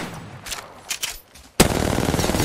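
Automatic gunfire in Apex Legends, a dense sustained burst that starts abruptly and continues loud and close, after a few scattered quieter shots and game sounds.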